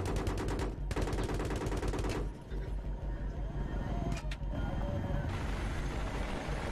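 Rapid automatic gunfire rattles from a helicopter in Battlefield 3, loud sustained bursts that pause briefly and resume, with engine and rotor noise underneath.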